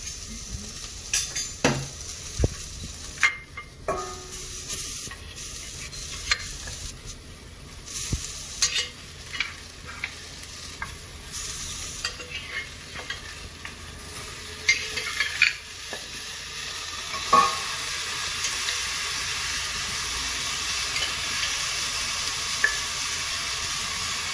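Mutton for curry sizzles in a pot while a utensil stirs and scrapes against the metal in uneven bursts, the frying hiss growing steadier and louder toward the end.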